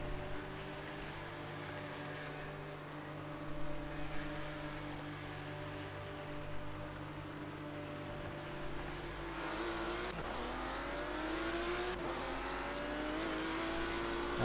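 A race car engine in the driving game Project Cars, during a historic cup race, holds a steady droning hum that rises into climbing revs through gear changes toward the end.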